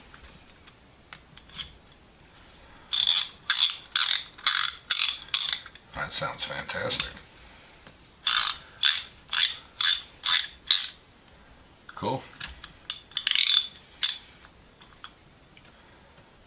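A restored ratchet wrench, once seized, clicks in quick repeated bursts of sharp metallic ticks. Several runs are separated by short pauses and brief handling noise, with a person speaking briefly between them.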